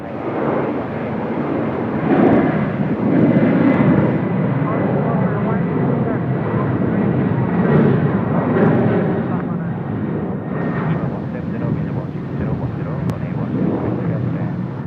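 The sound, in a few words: airliner departing Seoul Incheon runway 16 left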